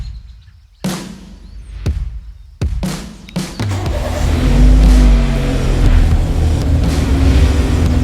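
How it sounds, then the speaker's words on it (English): A car drives up toward the camera and comes to a stop, its engine rising from a few sharp knocks into a loud, steady near rumble over the second half. "I'm gonna drive towards you and stop right in front of you"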